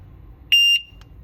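A bike horn switching into security mode gives one loud, shrill electronic beep lasting about a quarter second, then a faint shorter chirp, with quiet low rumble around it.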